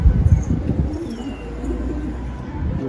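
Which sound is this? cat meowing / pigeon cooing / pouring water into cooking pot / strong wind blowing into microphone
pigeon cooing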